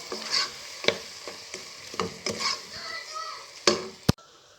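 Garlic frying in a pan for a rice dish gives a steady sizzle under repeated sharp clicks and scrapes of stirring utensils, then a loud knock and a sudden cut to near silence.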